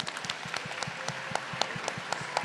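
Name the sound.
audience applause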